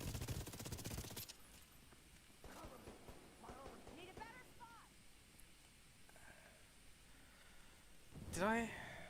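Rapid video game gunfire, a dense burst of automatic shots at the start, then quieter scattered sounds with some speech, and a short loud burst near the end.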